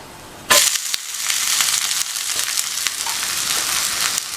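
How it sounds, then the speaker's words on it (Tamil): Rava uttapam fries in oil on a pan, a loud sizzle bursting in abruptly and then crackling steadily up close, with no talk. "இந்த ஊத்தப்பம் சுற்றி எண்ணெய் விட்டுட்டு மேலேயும் கொஞ்சமாக எண்ணெய் விட்டுக்கங்க."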